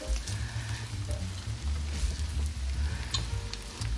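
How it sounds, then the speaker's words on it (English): Chicken fried rice sizzles and crackles in a hot pan while being stirred constantly, with a steady close frying hiss and scraping stir sounds. "You notice we haven't really stopped stirring this the entire time."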